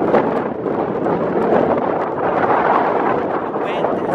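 Strong wind buffets the microphone beside a whitecapped lake in Iceland, a loud continuous roaring rush with gusty swells, and someone talks faintly under it.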